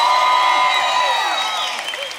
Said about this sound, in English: if we could just give him the biggest cheer that we could in celebrations of his birthday